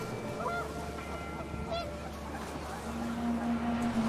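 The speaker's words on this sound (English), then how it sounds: "The wind picked up, and panicked geese appeared and quickly went." Panicked geese honk in a storm in the video game What Remains of Edith Finch, a few brief honks standing out over a steady roar of wind and rumbling ambience.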